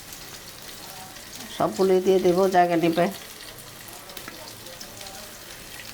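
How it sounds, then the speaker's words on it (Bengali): Giant freshwater prawns frying in hot oil give off a steady, soft sizzle that runs throughout, while a voice speaks briefly over it in the middle. "এখন আমি একটা একটা করে মাছ দিয়ে দেব ফ্রাই করার জন্য।"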